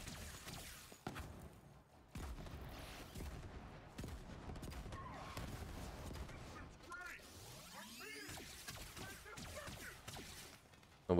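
Revolver gunfire in Borderlands 3, a sci-fi shooter video game: repeated sharp shots and bursts amid whooshes and game effects, with someone talking over much of it.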